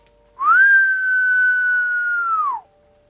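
A loud, eerie whistle rings out alone in a quiet night, rising quickly, holding one steady sustained tone for about two seconds, then falling away.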